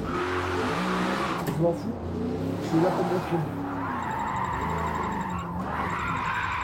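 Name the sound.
car drifting and tire skidding in video game Forza Motorsport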